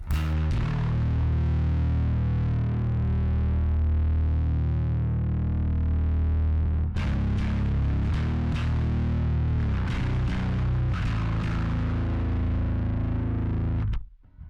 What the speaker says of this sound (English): Listen to that after kind of sing from the distortion.